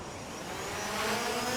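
A drone flying close by gives a loud, steady whirring buzz with a rising tonal whine as it gets nearer, alone without talk.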